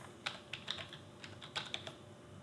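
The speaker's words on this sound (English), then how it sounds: "go to effects, and then just type in parametric equalizer" Someone types a few short bursts of keystrokes on a computer keyboard while searching for an audio effect in editing software, the clicks soft and close against a faint steady room hiss.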